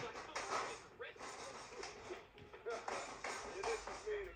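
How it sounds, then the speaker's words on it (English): Footsteps in the Modern Warfare video game, a steady run of soft shuffling, tapping steps fairly close and moderately loud throughout. "And these are footsteps in Modern Warfare."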